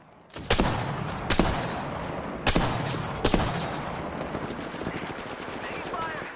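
Video game gunfire, several loud bursts of rapid automatic shots with echoing tails, fading out toward the end as a voice speaks briefly.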